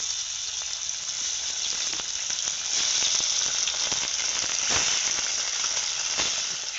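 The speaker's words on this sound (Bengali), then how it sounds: "বাকি মাছগুলো আমি ভেজে নেব" Pieces of river fish frying in a wok of hot oil, giving a loud, steady, close sizzle with crackling pops throughout, and no voices.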